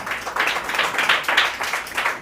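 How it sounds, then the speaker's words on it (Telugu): A church congregation claps for the pastor, a steady run of hand claps in a room, moderately loud with no voice over it. "ఒకసారి చప్పట్లు కొట్టండి మా పాస్టమ్మకు"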